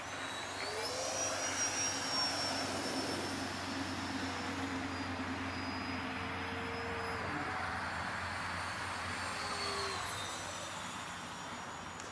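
A Force RC F-18 Blue Angel V2 electric model jet flies during landing practice, its ducted fan whining steadily with rising and falling pitch as it passes, loud and continuous for the whole stretch, with no talking.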